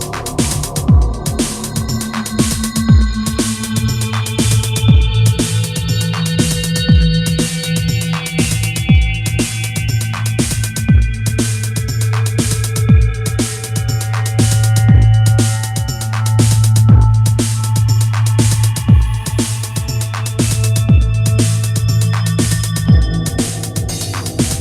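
An Evolver sampler on iPad running a Harmonic Sweep program, each of its 16 samples set to a different harmonic: layered sustained tones and shifting overtone lines over a fast, even pulse of clicking notes, steady and alone.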